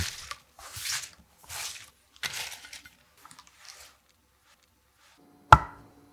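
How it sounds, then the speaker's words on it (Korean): A knife cuts green garlic into short pieces, several soft crunchy cuts in a loose rhythm over the first few seconds, then a single sharp knock as the blade hits the board. "4cm 길이 정도로 먹기 적당하게 잘라주세요"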